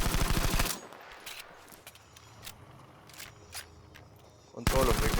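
M1907 automatic fire in Battlefield V: a loud sustained burst opens, then quieter game ambience with scattered distant shots, and a second heavy burst closes.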